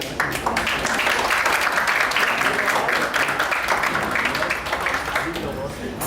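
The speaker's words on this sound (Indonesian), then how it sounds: "Tepuk tangan, tepuk tangan." Audience clapping at an Indonesian music event as performers are called up, a steady dense applause moderately loud throughout, with voices mixed underneath.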